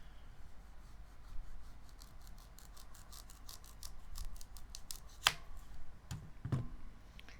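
Knife cutting into a carrot while carving a flower, with quiet scraping and slicing strokes, a sharp snap near the end and a few soft knocks; faint and close, no talking.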